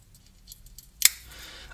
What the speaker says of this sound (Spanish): aquí tendríamos las tijeras de Victorinox